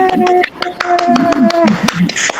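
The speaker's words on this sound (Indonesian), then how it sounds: "tepuk tangan dulu untuk kucing kali" A small group in a school session claps in sharp, distinct individual strikes at an irregular rhythm, heard close while a person keeps talking throughout.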